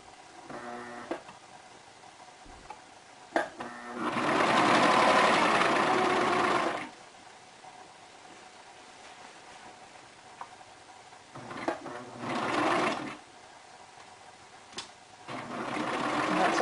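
Sewing machine stitching two layers of hammock fabric in short bursts, whirring loudly for a couple of seconds at a time between quiet pauses, close by.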